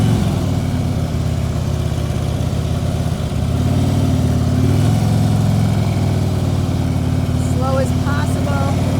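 A Harley-Davidson motorcycle held at slow speed with the revs kept up, a steady mid-pitched engine drone that shifts slightly in pitch partway through, with a voice speaking briefly near the end.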